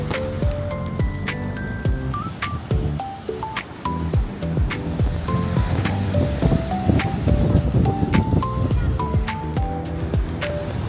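Ocean waves washing ashore at Pantai Rhu beach in Johor, a continuous loud rushing surf with wind, while children and adults talk and call out nearby.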